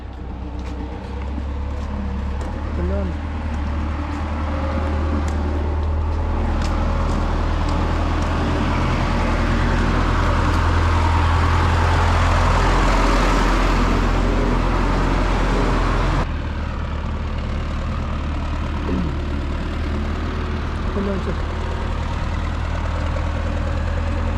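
A tractor engine idles and runs steadily nearby on a farm during autumn field work, a continuous low rumble that swells louder for a stretch midway before settling back to a steady drone.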